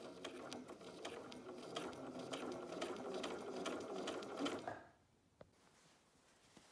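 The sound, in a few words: sewing machine stitching Libeccio bermuda shorts cuff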